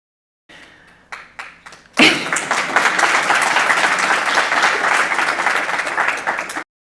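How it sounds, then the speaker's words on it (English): A few isolated claps come first, then a full audience bursts into loud, sustained applause that holds steady before cutting off abruptly. "the audience is applauding"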